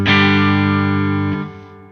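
Sustained electric guitar chord run through a Two Notes Torpedo C.A.B. M+ with reverb and ambience added, ringing loud and full, then choked and decaying into a reverberant tail.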